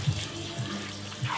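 Warm water runs at a barber's sink while hair is rinsed between shampoos, with soft splashes and patters close by and no talk.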